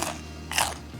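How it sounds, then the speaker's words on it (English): Two crisp crunches as a garlic butter crouton oven-baked for a Caesar salad is bitten up close, the second bite louder and sharper than the first. "First, I think I gotta try a crouton here. Oh my gosh, listen to the crunch."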